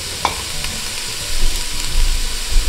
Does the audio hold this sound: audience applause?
no